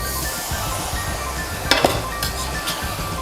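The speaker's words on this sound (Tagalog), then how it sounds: "Continuous lang dapat yung paghalo natin." Pork and pork flower being stirred in a cooking pan for Filipino street food, with a steady low frying sizzle and a couple of sharp utensil clinks against the pan near the middle.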